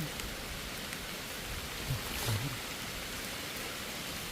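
Rain falls in a soft, continuous hiss outdoors while wild mushrooms are gathered along a roadside, with a faint rustle midway and no talking.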